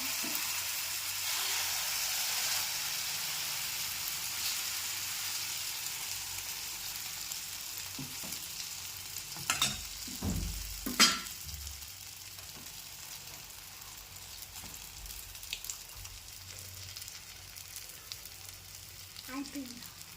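Egg for a bread omelette fries in an oiled pan, a steady hissing sizzle throughout with a few brief clatters and thumps of handling near the middle, then settling back to quieter frying.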